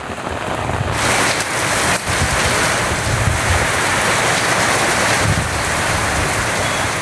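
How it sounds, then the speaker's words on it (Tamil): Heavy rain pours steadily across farmland in Tamil Nadu's delta region under dark clouds, a dense continuous hiss with gusty wind swelling through it, loud and unbroken with no voices. "பல்வேறு பகுதிகளில் மிதமான மழையும் கனமழையும் பெய்தது."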